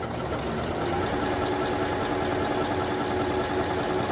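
A sewing machine stitching at stitch length 1 makes a continuous fast mechanical whir and rattle, steady and close, running alone without talk.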